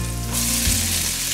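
Onions sautéing in a hot pan with garlic for pancit canton: a steady, close sizzling hiss that holds loud throughout.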